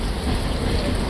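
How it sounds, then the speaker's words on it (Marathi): Heavy rain pours down at a railway station, making a dense, steady hiss of falling water that fills the short moment fairly loudly and is heard alone. "आता पाऊस पडतोय मजबूत."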